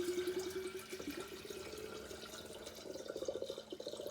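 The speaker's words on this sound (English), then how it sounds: "I'm just using regular tap water because that's what I've got to hand." Regular tap water runs into a brewing vessel for Finnish Kilju sugar wine, a close, faint trickling and pouring with rising gurgle as the container fills, no talk over it.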